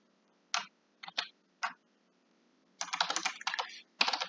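Typing on a computer keyboard while writing Java code: short bursts of quiet clicks, then a denser run of rapid keystrokes, close and clear with no talk.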